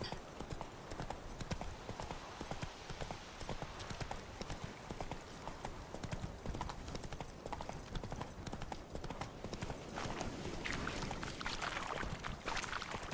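Horse hooves clip-clopping in The Witcher 3 video game, a quick steady galloping rhythm running throughout at moderate volume with faint background game sound.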